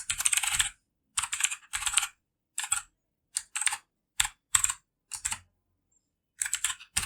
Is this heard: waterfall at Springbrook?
no